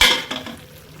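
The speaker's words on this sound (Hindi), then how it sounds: "तो चलें अब हम इसको भूनी देते हैं" Beef karahi fries in a pot with a brief burst of sizzling that fades within a second, along with a faint utensil stir, close by.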